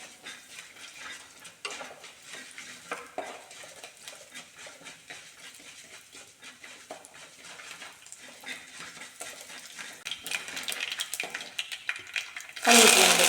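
Urad dal roasts in hot oil in a pan with a faint, continuous crackle and light stirring scrapes that build gradually, ending in a sudden loud sizzle burst.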